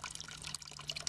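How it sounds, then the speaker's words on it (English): A leaking outdoor garden faucet trickles and drips steadily, a faint, continuous splatter of water heard alone. "quite a bit of water coming out."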